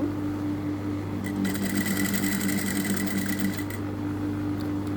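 A sewing machine stitches fabric right beside a line of piping, its motor humming steadily with a close, rapid mechanical chatter that runs for a few seconds.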